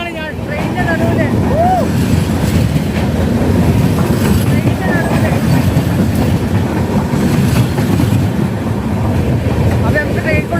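A heavy, continuous rumble of a train on the Nashik-to-Kerala run, loud and close throughout, with rolling wheel noise and faint squeals and clanks over the steady roar.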